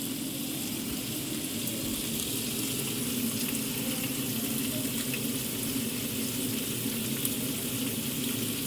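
Pancake batter frying in a hot pan makes a steady, dense sizzle that holds at an even level throughout, with no talking over it.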